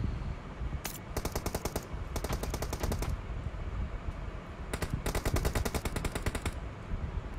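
Rapid automatic gunfire in PUBG Mobile after a weapon switch, several sharp bursts of close, loud shots separated by short pauses, with no voices over the shooting.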